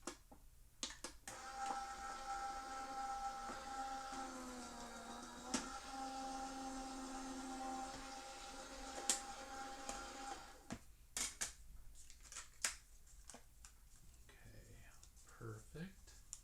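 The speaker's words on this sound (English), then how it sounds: "So we will run this through the die cutting machine really quick." A die cutting machine rolls a sentiment die through with a steady mechanical whir that holds for roughly ten seconds, then gives way to scattered clicks and handling noises; no one speaks.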